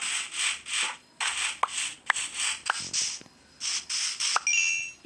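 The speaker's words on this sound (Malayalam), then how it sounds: "ഇനി നമ്മളൊരു മരം വെട്ടാനാണ് പോകുന്നത്." Tree chopping in the video game Minecraft plays as repeated short scraping, rubbing hits in irregular bursts, with a few sharp dings and clicks between them. No voice is heard.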